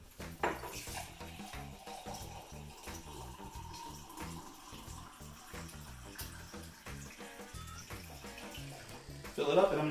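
Water runs steadily from a tap into a mug, a continuous splashing stream with faint clinks of dishes and a louder burst at the end.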